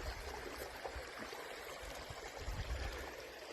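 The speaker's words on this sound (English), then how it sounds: "The water rushes straight down over the top of this." Water rushes straight down over rocks into a small catchment, a constant broadband roar at moderate distance with no voices.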